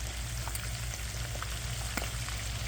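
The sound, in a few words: prosciutto-wrapped asparagus frying in oil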